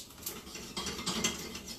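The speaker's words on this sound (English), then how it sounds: "they're just popping a little bit" Onion and cumin beginning to pop in a hot pan for a spicy lentil stew, with faint, scattered crackles and light sizzling close by and no talking.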